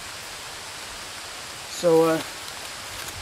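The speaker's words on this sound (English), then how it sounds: "The rain's coming lightly on and off and I'm just worried it's gonna come down." Light rain falls on and off onto a tarp over a solo woodland camp, a steady soft hiss throughout, briefly interrupted by a short spoken word.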